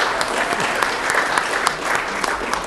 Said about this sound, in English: Want to clap for that?